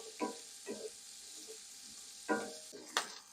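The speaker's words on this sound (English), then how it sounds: "we're going to cook these for about 5 minutes, just until these chickpeas get a little crisp and a nice little golden color to them" Chickpeas frying in a pan while being stirred, a steady soft sizzle broken by a few louder scraping stir strokes, close and without talk.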